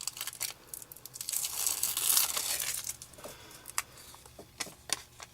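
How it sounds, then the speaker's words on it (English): A fingertip rubs excess sticker adhesive onto glossy backer paper while shamrock quick stickers are made, giving close, soft crinkling and scratchy rubbing with a denser swell in the middle and scattered small ticks afterward. "Just take your finger and rub the excess glue, and adhesive will transfer to the backer paper."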